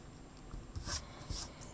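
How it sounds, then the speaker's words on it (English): Pencil lines being erased from paper in a perspective drawing, two soft rubbing strokes of an eraser close by, quiet and brief against faint room noise. "anything beyond that we can erase and get rid of"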